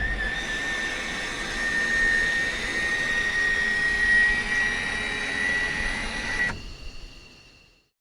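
F-16 Viper jet engine whines steadily while taxiing in the Falcon BMS flight simulator, a loud sustained roar with a high tone that cuts off abruptly near the end and fades.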